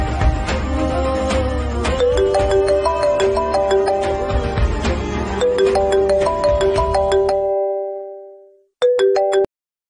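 A loud, close electronic phone ringtone plays an incoming-call melody of chiming repeated notes for several seconds, fades out, then a brief snippet of the melody starts again.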